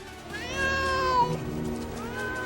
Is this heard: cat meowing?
yes